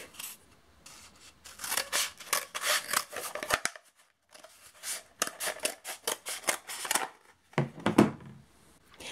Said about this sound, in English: Then simply cut along the straight line.